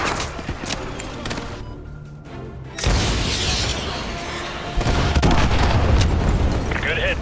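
AGM missile strikes in Modern Warfare 2 Remastered land as a series of loud booming explosions with rumbling bursts, the impacts swelling in two heavy waves over a dense battle din.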